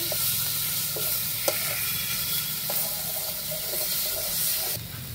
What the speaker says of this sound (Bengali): নুন, কেটে রাখা টমেটো দিয়ে একটু ভালো করে কষিয়ে নিব।